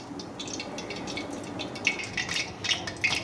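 Soft splashes and patters as washed rice is tipped into hot water for mutton biryani, a few small plops standing out near the end.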